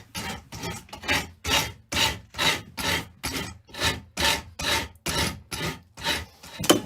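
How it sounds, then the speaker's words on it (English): Surform rasp filing the wood of an acoustic guitar under construction, about a dozen evenly spaced rasping strokes in a steady back-and-forth rhythm, close and clear with no talking. "It's basically just a fancy rasp."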